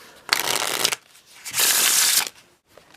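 A Bicycle Favole deck of playing cards is riffle-shuffled twice, two crisp bursts of fluttering card snaps close up, separated by a short pause.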